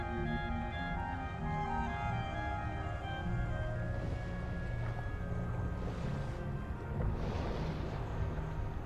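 Ambient ocean water while swimming in the underwater game ABZU, a steady low wash and hum with soft tonal layers sustained evenly throughout, no talking.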